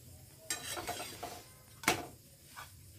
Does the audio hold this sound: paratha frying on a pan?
yes